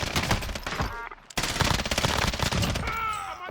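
Heavy automatic gunfire in a multiplayer shooter video game, with dense overlapping bursts that break off for a moment and then resume, loud and close, a few game sounds at the end.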